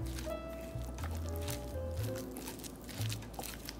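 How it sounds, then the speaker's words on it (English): Tuna deviled egg filling of mashed yolk, salt and black pepper being stirred until smooth, giving soft wet squishing and scraping sounds close by, with low tonal hum underneath and no speech. "let's mix this up until it's smooth"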